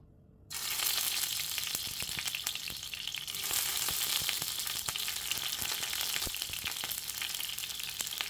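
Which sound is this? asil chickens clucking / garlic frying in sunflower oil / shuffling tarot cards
garlic frying in sunflower oil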